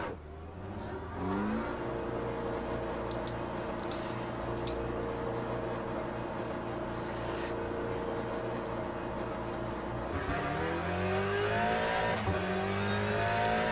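A race car in Le Mans Ultimate revving hard with its rear wheels spinning, a loud sustained engine drone that climbs and falls in pitch, then surges sharply again near the end.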